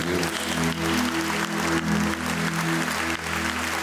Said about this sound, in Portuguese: Uma salva de palmas à palavra de Deus.